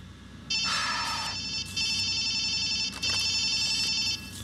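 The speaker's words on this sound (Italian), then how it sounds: "Telefono." A telephone rings in the video game Watch Dogs 2, three bright repeated bursts with short gaps between them, loud and close over a low game ambience.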